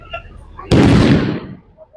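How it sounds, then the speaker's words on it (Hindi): A single loud, close explosion from a CISF anti-terror drill at an Independence Day celebration bursts suddenly after faint background noise, then decays over about a second. "आप देख सकते हैं विस्फोट आतंकवादियों के द्वारा कराया गया।"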